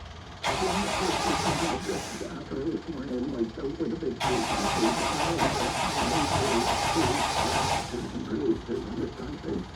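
A 1965 MGB with an automatic choke cranks in two long, loud bursts close by, with a short pause between them. A voice is heard alongside.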